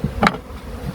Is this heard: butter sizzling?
no